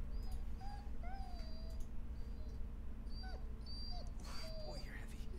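An injured dog in the Blair Witch video game whimpers and whines in thin, wavering cries, repeated over a low rumbling background.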